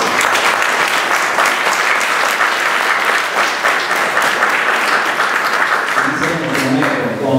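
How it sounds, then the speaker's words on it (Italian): Loud, dense applause from a concert audience at a saxophone quartet performance, a continuous wash of many hands clapping that holds steady for several seconds before a voice begins speaking over its tail. "a noi vogliamo fare un bel applauso."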